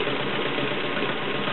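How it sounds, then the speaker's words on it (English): A vintage Kenmore model 1422 sewing machine, a heavy serviced unit with a 1.2 amp motor, runs in a steady continuous whir with no pauses, close and fairly loud, and nobody talks. "I'm going to sew here just like all of our other machines."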